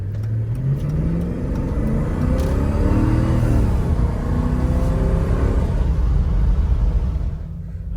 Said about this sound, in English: This is part throttle acceleration.